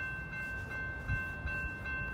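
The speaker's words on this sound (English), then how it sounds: "The next Metra train approaching your station will be a Metra Express train and" A doubleheaded Metra Express commuter train rumbles steadily through Riverside, Illinois station without stopping, low and continuous, with faint rail clatter and a few heavier thumps as it passes.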